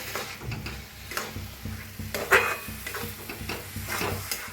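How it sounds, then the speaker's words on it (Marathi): Soaked matki dal being stirred into fried masala in a pan, with soft scraping strokes and intermittent clinks of the spoon against the vessel over a gentle sizzle. "आता डाळ सगळे घालून घेतल्या मिक्स करून घेऊया"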